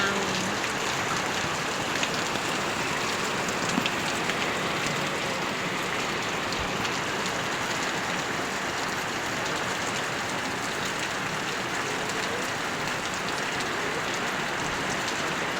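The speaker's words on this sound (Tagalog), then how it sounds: "Grabe yung lakas ng ulan ngayon dito sa amin" Heavy typhoon rain falls without letup, a thick, even roar of water drumming on surfaces nearby.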